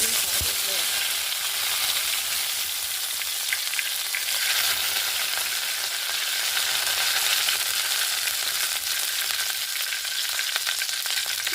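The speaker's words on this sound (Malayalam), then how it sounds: "കടുക് പൊട്ടി" Continuous crackling sizzle of mustard seeds popping in hot coconut oil, dense and steady, with no voices.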